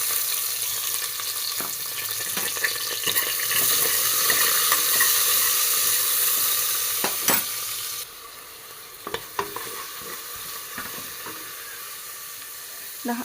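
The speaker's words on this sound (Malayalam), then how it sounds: "ലേശം കായത്തിൻ്റെ പൊടി ഇട്ട് കൊടുക്കാം. ഒരു സവാള കട്ട് ചെയ്തിട്ട് കൊടുക്കാം." Steady, loud sizzling as sliced onion and asafoetida hit hot oil in a pan, a bright hiss filling the scene, then softer frying broken by occasional clinks and stirring scrapes.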